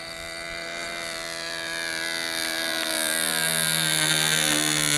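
A nitro-powered RC model Cessna 177 Mini Cardinal with a 1.73 m wingspan on its maiden flight, its small engine holding a loud, steady high-pitched whine that slowly rises in volume as the plane passes, with no talk.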